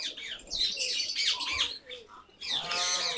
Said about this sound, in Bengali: অধিকাংশ কবুতরই নেমে গেছে, অল্প কিছু এখনো আকাশের উপরে আছে